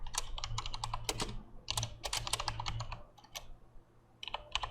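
Keystrokes on a computer keyboard, a quiet, close run of uneven clicks in short bursts with brief pauses, entering a search in the Epic Games launcher marketplace, over a low steady hum.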